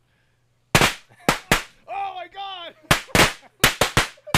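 Firecrackers burst outdoors in a string of sharp, loud, close bangs: three near the start and a rapid cluster later. Someone exclaims between the pops.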